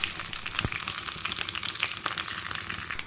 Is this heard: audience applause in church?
no